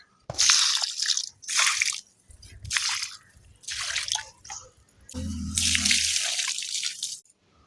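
Liquid fertilizer poured onto vegetable plants in a home garden, arriving as about five separate close splashing pours with short pauses between them.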